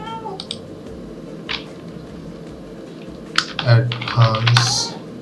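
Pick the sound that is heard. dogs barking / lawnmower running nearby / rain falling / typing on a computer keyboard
typing on a computer keyboard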